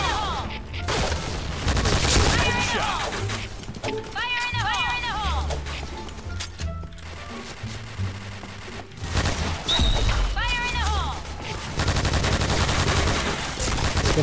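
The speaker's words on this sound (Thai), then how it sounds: "ยิงไม่โดนครับกระสุนไม่ได้เข้าตรงเป้าเลยนะ" Simulated L86 LSW light machine gun fire in the Point Blank video game: repeated loud bursts of automatic gunfire mixed with other game sounds, with a voice talking throughout.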